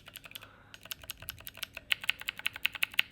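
Keys on the keyboard of a Divoom Ditoo Bluetooth speaker are pressed one after another, making clicky, mechanical-style taps. The presses start sparse and then turn into a quicker, regular run of sharp, close clicks.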